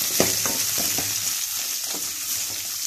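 Onions and white ash gourd sauté in a pan with a constant, close, bright sizzle, broken by several quick scraping stirs of a spoon against the pan.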